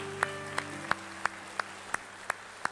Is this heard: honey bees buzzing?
no